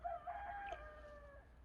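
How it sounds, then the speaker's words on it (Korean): On a countryside mulberry farm, a rooster gives one long, clear crow, faint and distant, held for over a second before fading, with no talk over it. "닭울음 소리가 잘 들리죠"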